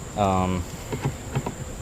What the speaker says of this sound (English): really surprised to see some bees flying in and out of here